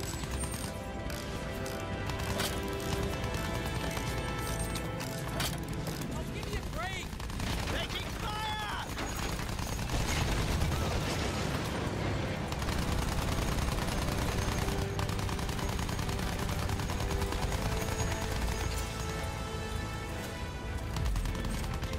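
Battlefield 1 campaign combat: dense, continuous bursts of gunfire and machine-gun rattle layered with heavy battle noise that runs loud throughout, with someone talking over it.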